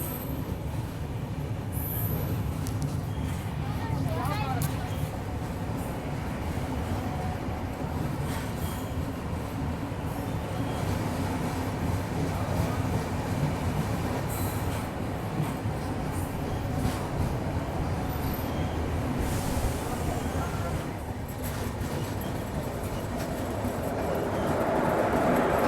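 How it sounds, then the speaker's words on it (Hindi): Tirupati Jammu Humsafar Express running through a loop line, with a continuous heavy rumble and wheel clatter throughout and occasional metallic squeals, loud and close, with no speech. "और हम लोग लूप से स्किप कर रहे हैं।"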